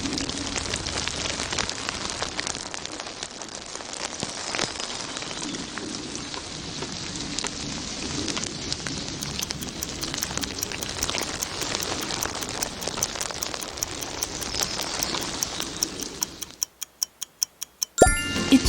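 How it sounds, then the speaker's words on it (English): Steady spring rain pattering on a surface, a dense, even hiss of drops that runs for about sixteen seconds before fading, then a brief ticking sound at the end. "It's rain."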